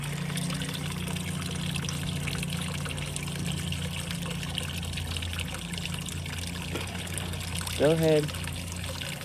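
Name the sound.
water trickling onto small pond plants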